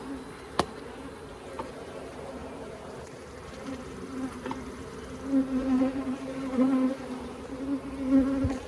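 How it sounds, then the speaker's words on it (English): Honeybees hum steadily inside an open Layens hive, a dense droning buzz that swells and fades with a few sharp clicks and knocks from frame handling. "There's a lot of bees in here."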